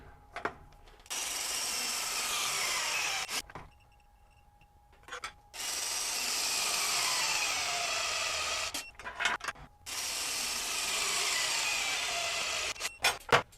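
A RIDGID SubCompact impact wrench hammers bolts to 500–600 foot-pounds in three long, loud rattling bursts, each lasting a few seconds, separated by short pauses with light handling clicks.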